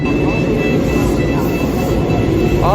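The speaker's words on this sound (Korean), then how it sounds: "열차가 들어올 때는 이렇게 경보음으로 알려주는 것 같아요" Metro train pulling into a station in Egypt, a loud steady rumble of wheels and motor filling the platform with a thin sustained warning tone above it, and a brief rising tone near the end.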